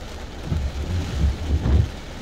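Heavy rain lashes Muscat, Oman during Cyclone Shaheen, a steady close roar of downpour with low rumbling surges swelling and fading throughout, no voices.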